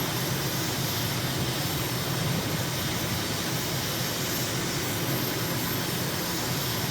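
A small airplane's engine in Microsoft Flight Simulator, flying near Libreville, Gabon, drones as a loud, unbroken roar with a steady tone throughout.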